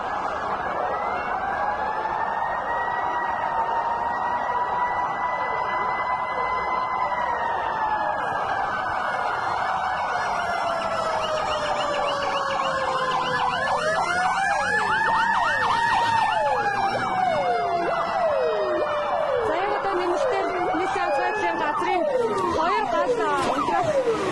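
Fire engine sirens wail continuously as trucks arrive at a department store fire in 2020, with several overlapping rising and falling tones that stay loud and close over rumbling traffic.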